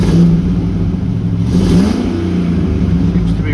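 A Ford F-150 with a 5.4 V8 and misfires on cylinders 3 and 4 runs loud and close, a steady low rumble with a slight rise in revs partway through.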